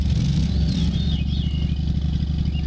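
In the Lawn Mowing Simulator video game, a ride-on mower engine chugs at a steady idle with a rhythmic low rumble and light clatter, loud and close, with no voices.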